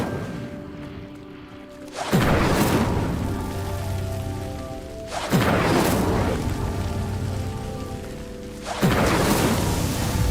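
Incendio fire spell lighting three pyres in Hogwarts Legacy, three separate whooshing flame bursts spaced a few seconds apart, each dropping into a sustained crackling roar of fire over soft background music.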